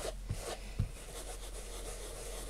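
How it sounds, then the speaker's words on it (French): A small makeup brush with fine little bristles scrubbing transparent sticker paper cut from magazine images, giving a steady soft rasping rub with two brief louder strokes near the start. "c'est cette petite brosse à maquillage avec les petits picots, ce qui permet d'enlever quand même pas mal"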